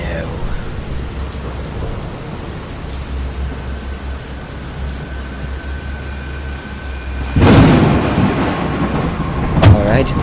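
Heavy rain and wind roar steadily through a thunderstorm, with a loud rumbling crack of thunder bursting in partway through and a second sharper strike near the end.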